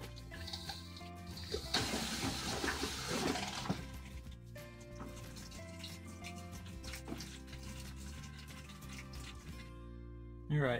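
An RV toilet flushing to clear its water lines, with a rushing gush of water that surges early and then settles into a steady trickling fill, close and faint, no talking.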